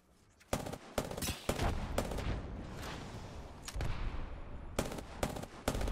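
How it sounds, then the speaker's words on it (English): Prowler weapon bursts in the video game Apex Legends, loud clusters of rapid shots separated by short gaps, close and punchy over game ambience, no talking. "Nice shots with the Prowler."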